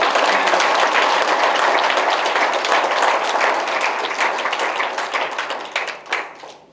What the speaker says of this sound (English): I said give me a huge round of applause.